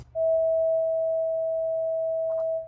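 A pure sine tone at 650 hertz, raised in pitch as if from a fast-moving source, sounds steadily and alone for about two and a half seconds, then stops abruptly.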